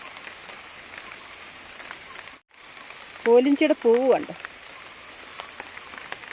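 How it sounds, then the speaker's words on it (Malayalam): Heavy rain pours over a hillside plot of kolinchi (wild ginger) in Kerala, a steady close hiss of drops on leaves and ground that runs throughout, with a brief spoken remark partway through. "ഞാൻ ഈ വീഡിയോ എടുക്കുമ്പോൾ തന്നെ ഭയങ്കര മഴ പെയ്തുകൊണ്ടിരിക്കുകയാണ്"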